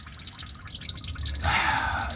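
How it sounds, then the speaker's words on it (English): Engine coolant drains from a 2007 Subaru Forester XT during a header install. A few close, soft drips are followed by a steadier, louder trickling stream as the fluid runs out into a catch container. "You can also see that all my coolant's draining out."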